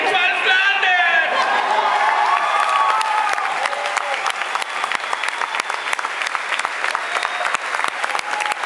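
An audience applauds and cheers loudly at a comedy show, with whoops and shouts over the opening seconds giving way to sustained, crisp clapping that carries on to the end.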